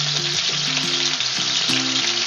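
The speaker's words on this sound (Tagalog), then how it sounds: "At this point, you can add the garlic." Garlic fries in a pan with a loud, constant sizzle and hiss, a few soft stirring scrapes, and no talking.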